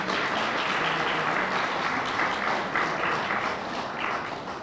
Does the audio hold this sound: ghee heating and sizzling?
no